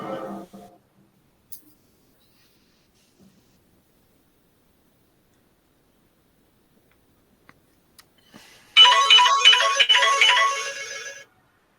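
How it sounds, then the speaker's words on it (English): A mobile phone ringtone in a board meeting room starts abruptly after near silence and rings loudly in a bright repeating electronic pattern for a few seconds before cutting off. "We know whose phone's ringing."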